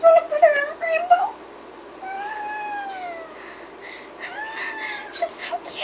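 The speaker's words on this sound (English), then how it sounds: "She's like the most cutest little kitten." A kitten meows several times, with short high calls at the start followed by longer drawn-out mews. Each call is close and clear over a quiet background.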